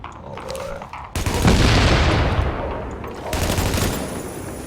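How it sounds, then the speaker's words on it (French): Explosions and gunfire in The Division, a sharp blast followed by a long rumbling roar that decays over a couple of seconds, then a second burst of loud crackling fire, close and forceful. "Les explosions sont toujours aussi bien réalisées."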